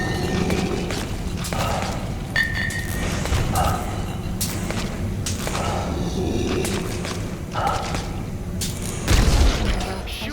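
Gunfire in the video game Metal Gear Solid V: The Phantom Pain, thuds and shots scattered over a dense, steady game soundscape with a heavier burst near the end.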